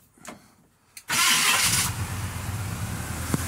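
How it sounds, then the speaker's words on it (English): A 1978 Chevrolet stepside two-wheel-drive pickup engine cold-starts: a few brief cranking sounds, then the engine catches abruptly and settles into a loud, steady, rumbling idle close by. "This is a cold start."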